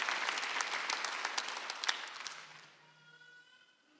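Applause from a church congregation at a Jesus-centered church Sunday service, dense clapping for about two and a half seconds that then thins and fades, leaving faint sparse claps and a low hum.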